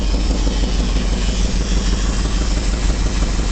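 A carbureted engine with a suspected vacuum leak idles low around 500 to 600 RPM, a steady close rumbling drone with faint uneven pulsing and no voices.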